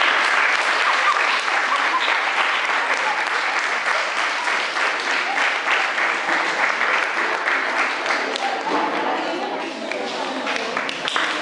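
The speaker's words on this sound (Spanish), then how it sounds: "quiero un fuerte aplauso" Strong, sustained applause from an audience for third and fourth year students at an instrumental music workshop, dense and even throughout, tapering slightly near the end.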